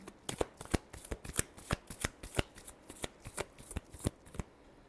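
Tarot cards are shuffled close by in a quick series of crisp riffling slaps, roughly a dozen even beats, before the shuffling stops.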